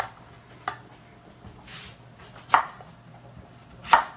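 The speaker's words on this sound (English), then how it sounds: "And then I just cubed it. I cut it into smaller pieces." A knife chops sweet potato into cubes on a cutting board, making a few sparse, sharp taps with long pauses between them in a quiet room.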